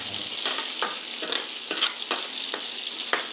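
Tomatoes frying in a pan for a home-style paneer masala curry, a loud constant sizzle broken by regular spatula stirs and scrapes roughly every half second, close and with no voices.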